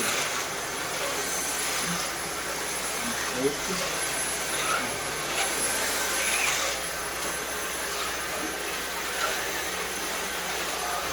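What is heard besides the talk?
vacuum cleaner running during dog training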